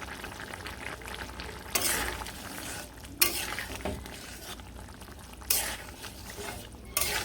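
Ground spice paste stirred into a potato and soybean curry in a hot pan, giving a loud close sizzle with repeated scraping stirs and bursts of frying.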